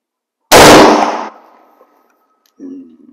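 A single sharp, loud shot from a US military surplus 03-A3 rifle firing commercial rounds outdoors, followed by a decaying ring and a brief faint sound a moment later.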